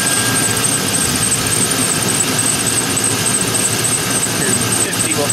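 A 2001 GMC truck engine idling, heard as a loud, steady, continuous rumble with a high whine on top and no change in pace.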